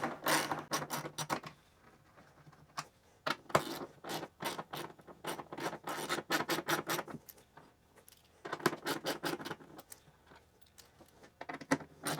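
A ratchet backs out the speaker bolts on a Harley Davidson Road Glide fairing, with quick bursts of close clicking broken by short pauses and occasional metallic rattles.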